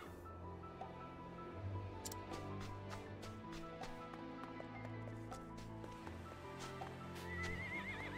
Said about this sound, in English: Horses are gentle and sensitive animals.